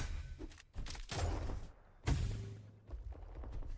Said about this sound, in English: Backstein will finish that frag with a shotgun